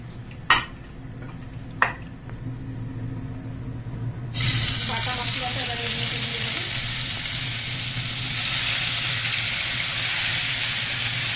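Pabda fish frying in hot oil for a Bengali jhal, a few sharp clinks of utensils and then a loud, steady sizzle that bursts in and keeps crackling to the end.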